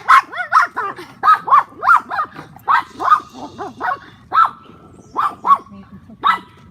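Dogs barking indoors at home, a string of loud, close, rapid barks and yips in uneven bursts, mixed with some whimpering.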